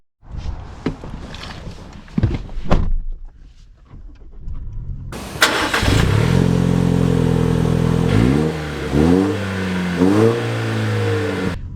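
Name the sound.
Toyota Tacoma truck being driven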